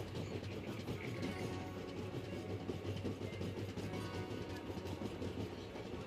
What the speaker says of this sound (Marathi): आपली गाडी आता सातारा रेल्वे स्टेशनवरती येते.